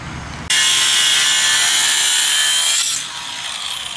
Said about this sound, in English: Now he's cutting out the top bolts that holds